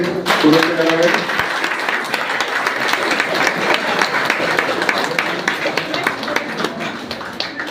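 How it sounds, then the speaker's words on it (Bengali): An audience breaks into applause at a community ceremony opening with a local legislator, a sustained patter of many hands clapping at moderate distance, with a voice heard briefly at the start. "সকলে একটু হাততালি দিয়ে"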